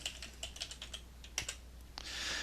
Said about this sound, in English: I'm going to type divide from the keyboard